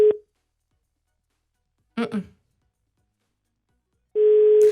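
Telephone ringback tones of an unanswered call: a short beep at the start, then after a pause a steady, loud tone that begins near the end, with a brief spoken sound between them.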